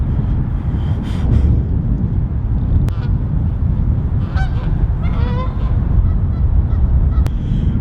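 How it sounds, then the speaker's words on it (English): Geese honking as they fly north overhead on a cold, windy day near a bridge, a few scattered calls breaking through heavy, loud wind rumble that dominates throughout. "looks like the geese are flying north"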